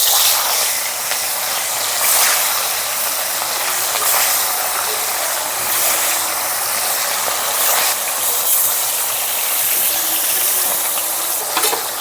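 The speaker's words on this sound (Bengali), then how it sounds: "এখন মাছগুলো ভেজে নিচ্ছি।" Pieces of rohu fish fry in hot oil with a dense, steady sizzle and crackle that holds at the same level throughout, close and fairly loud, with no talking.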